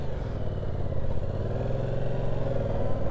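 A 2025 Yamaha MT-07 with its CP2 twin engine and aftermarket exhaust runs steadily at a low, throbbing idle close by, a continuous rumble with slight clatter and no talking.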